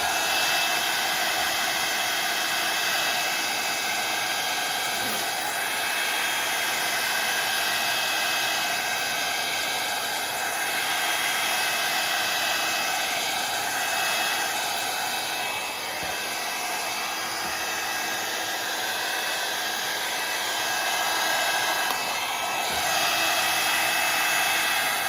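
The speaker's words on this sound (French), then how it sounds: "on va essayer d'accélérer un petit peu le processus avec le heat gun" A heat gun blows hot air with a steady, loud whooshing hiss and high whine, continuous and close for the whole stretch with no talking.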